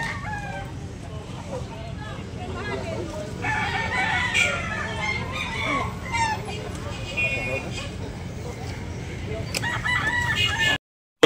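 A rooster crows amid clucking fowl at a poultry market in Carbon, Cebu, with people talking nearby throughout over a low background hum.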